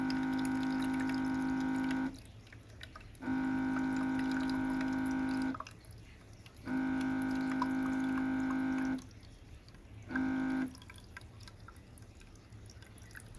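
Baby Brezza Advanced Formula Pro machine dispensing plain water into a bottle, a steady humming pump with trickling water that runs in four bursts separated by short quiet pauses, the last one brief.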